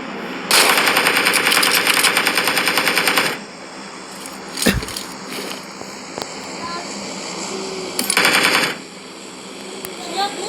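Gunfire in the video game PUBG: loud rapid automatic bursts, a long one near the start, a single sharp shot midway and another short burst later, over a faint background hum.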